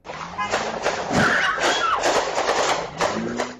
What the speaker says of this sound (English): Gunfire and screams on this surveillance video as people run for cover